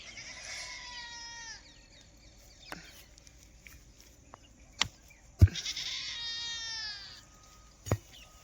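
Goats bleat as they are let out of their pen, two long wavering calls separated by several seconds, with scattered knocks and thumps from hooves and gear in between.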